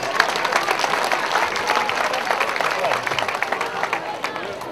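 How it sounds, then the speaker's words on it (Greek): An audience at a folk dance gathering in Palaiochora, Chalkidiki, applauds the dancers with dense, sustained clapping from a large crowd under a murmur of voices, easing slightly toward the end. "πρέπει με το χειροκρότημά μας να τους ενθαρρύνουμε και να τους ευχαριστήσουμε"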